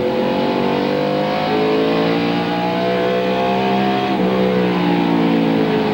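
A NASCAR stock car engine at a 1996 Cup race holds a loud, steady roar at close range, its pitch easing and shifting as the driver backs off the throttle for the corner.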